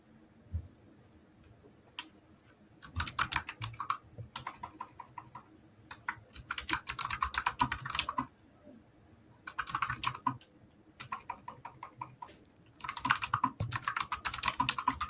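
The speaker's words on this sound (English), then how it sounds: "Listen to Shadow Beastie's keys" Computer keyboard typing in quick clattering bursts with brief pauses between them, close and moderately loud, with no talking over it.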